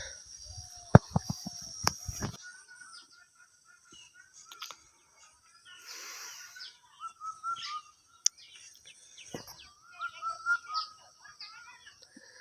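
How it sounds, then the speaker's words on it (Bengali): Ducks calling on a village pond, short nasal bursts of calls that come and go, with scattered bird calls and a few sharp knocks in a quiet rural setting. "হাঁস,"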